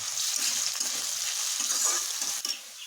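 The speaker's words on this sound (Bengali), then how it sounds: "আলু ভাজা হয়ে গেছে বা বের করে নেব" Potatoes fry in oil with a dense, continuous sizzle close by, broken by a few soft stirring scrapes and a light knock near the end.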